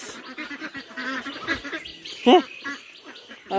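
A small flock of about twelve farmyard ducks quacks and honks intermittently nearby, with one louder call standing out midway.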